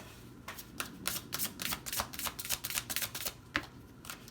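Tarot cards are shuffled for a reading, a quiet run of quick, crisp riffling taps in irregular bursts close by, with no voices.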